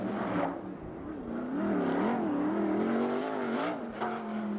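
Mark Heidenreich's car number 22, a Buick-engined senior sprint car, lapping a racetrack at Ventura, California, its engine droning steadily and rising and falling in pitch as it accelerates through the turns, heard from a moderate distance with no voices.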